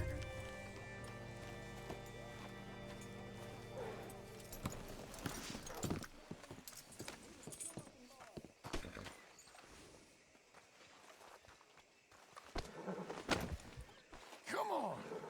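Horse hooves clip-clop on the ground in Red Dead Redemption 2 as a horse is brought up to a hitching post, irregular thuds of moderate loudness over ambient game music and noise, with occasional grunts.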